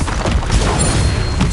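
The Confringo blast spell from Hogwarts Legacy on PS5 bursts out as a loud, dense explosive crash with heavy low rumble amid ongoing spell combat.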